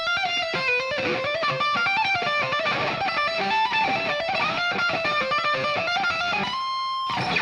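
A rapid electric guitar run, dense streams of quick notes climbing and falling, played alone, ending on a sustained note.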